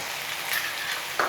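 Chopped onions sautéing with curry leaves in a pan for a quail gravy, a steady close hiss and sizzle of frying oil with a brief brighter crackle near the end.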